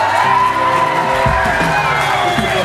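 A concert crowd cheers and whoops for a live band, a loud sustained roar of voices close by that swells and holds without a break.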